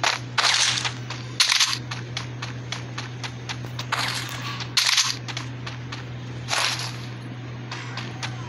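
Gunfire in the mobile battle royale game Garena Free Fire comes as sharp, loud bursts of shots, single cracks and rapid strings with short gaps, over a steady electronic hum.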